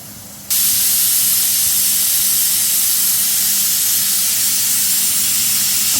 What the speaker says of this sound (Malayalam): നമ്മുടെ പ്രഷർ കുക്കറിൽ രണ്ട് പ്രാവശ്യം വിസിലൊക്കെ വന്നു